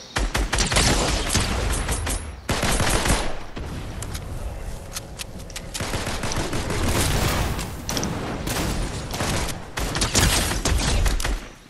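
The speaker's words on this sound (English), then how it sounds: "Geralt, you're doing pretty damn good with that assault rifle." Continuous loud assault rifle fire in a video game. Dense, rapid bursts run almost without a break, with booming impacts mixed in, and no talking.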